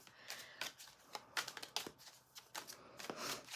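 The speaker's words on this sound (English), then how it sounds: "Let me shuffle the cards" Quick papery riffling and soft slaps of tarot cards being shuffled, in several short bursts, close and fairly quiet.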